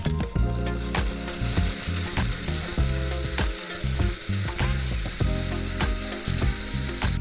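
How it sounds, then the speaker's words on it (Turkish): A blender whirring through detox drink ingredients and half a litre of water, a loud, close, continuous motor drone with rattling, choppy pulses as the contents churn. "Hadi şimdi malzemelerimizi blend edelim."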